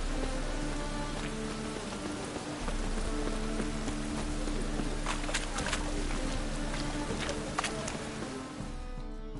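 Rain falling in The Witcher 3, a dense steady patter that fills the whole stretch, with a low hum underneath and a few sharper drip-like ticks near the middle.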